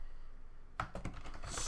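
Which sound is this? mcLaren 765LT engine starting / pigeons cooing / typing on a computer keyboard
typing on a computer keyboard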